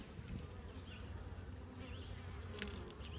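Honeybees buzz steadily and close by at feeding time, a continuous droning hum with individual bees passing near.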